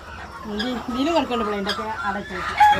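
Native hens cluck and chatter close by in a small home poultry farm, under and between voices of people talking nearby.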